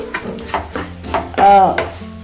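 Mutton curry masala roasting on a low flame in a pan, stirred in loud, rhythmic scraping strokes about every half second over a soft frying sizzle.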